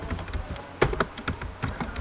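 A computer keyboard is typed on quickly while writing JavaScript code, giving a close run of sharp, irregular key clicks with a few louder taps and no talking.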